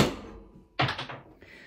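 A Byrna Salt S2 launcher fires a single shot: a sharp, close pop with a brief bright burst, followed by a short trailing clatter.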